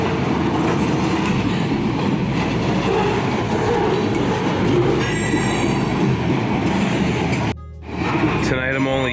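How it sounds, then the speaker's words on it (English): Long freight train rolling past at night, a close, continuous rumble with wheel squeal and clatter that drops briefly near the end before resuming. "This is a pretty long train."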